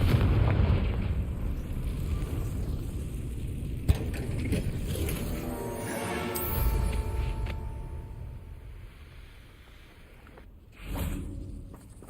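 A Confringo spell blast in Hogwarts Legacy, a booming explosion with crackling mechanical rattles that fade out, followed by a later smaller burst.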